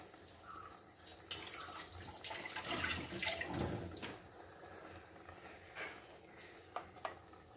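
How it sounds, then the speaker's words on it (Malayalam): Water runs and pours in uneven bursts for a few seconds, with a brief clatter of a container nearby before the flow fades out. "ആവശ്യത്തിനുള്ള വെള്ളം ഒഴിച്ചു കൊടുക്കാം"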